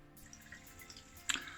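Water from a pool drain valve running through a hose into a pit while an inflatable pool is being winterized, heard as soft trickling and dripping with a brief louder splash near the end.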